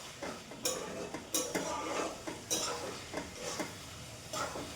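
Cabbage cooked with fish head being stirred in a pan, a spoon scraping and clinking against the metal in repeated strokes over a low sizzle, close and moderately loud with no talk.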